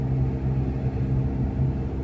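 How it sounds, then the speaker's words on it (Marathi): Car engine idling on a ghat road drive, a low steady rumble close by with no talking over it. "गाडीचा आवाज ऐकता तुम्ही?"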